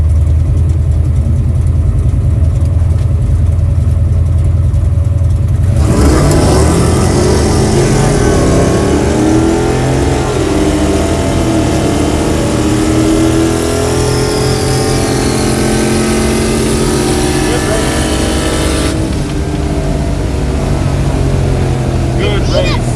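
A 1970 Monte Carlo's engine at a cruise event, loud and close, holding a steady idle and then rising in pitch as it revs, running continuously for most of the stretch with a brief quieter start.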